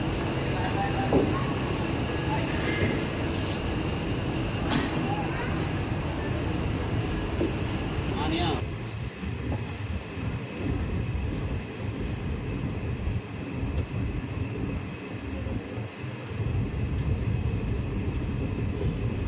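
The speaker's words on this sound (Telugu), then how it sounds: "మచిలీపట్నం విశాఖపట్నం ట్రైన్ అయితే స్టార్ట్ అయిపోయింది" The Machilipatnam–Visakhapatnam passenger train, number 17219, pulls out from platform 2 at Machilipatnam station with a steady, loud rumble of wheels and carriages. A few sharp squeals break through, then the noise shifts and continues unbroken.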